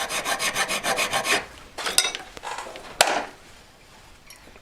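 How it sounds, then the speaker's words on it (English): Steady rhythmic rasping of a file dressing a V claw, about a dozen close, even strokes, then a few slower isolated scrapes with pauses between them. "I'm showing you me filing it up"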